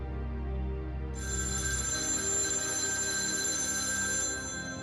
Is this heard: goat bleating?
no